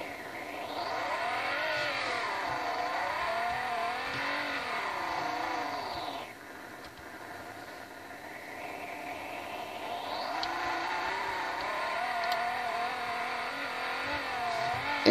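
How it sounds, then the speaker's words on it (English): A car engine in a Roblox video game revs up and down in long rising and falling sweeps, a steady mechanical whine with a smooth synthetic quality. "Putting the revs up, getting this on the skyline."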